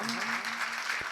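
An audience at a Jain ceremony claps briefly as a dense, even patter of hands.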